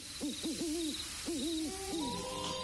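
An owl gives a rhythmic series of hoots in two bursts, mid-distance and clear, over a steady faint background hiss with no talking.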